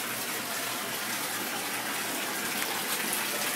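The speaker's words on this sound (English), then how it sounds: "We just threw it in there and I guess it dissolves." Water steadily gushing and sloshing in a filled bathtub after a LUSH mango bath melt is dropped in, a continuous close wash of liquid noise with no talking.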